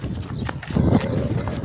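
A mare's hooves clip-clop on the ground close by, a few uneven thuds over a short stretch with some background noise.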